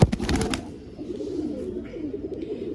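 Pigeon sounds in a loft: a burst of wing flapping at the start, then soft low cooing that continues quietly, with no voices.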